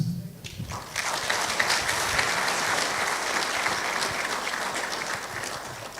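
An audience at a talk on natural gas in Nigeria breaks into loud, dense applause, a sustained wash of clapping that swells after a brief quiet start and holds steady to the end.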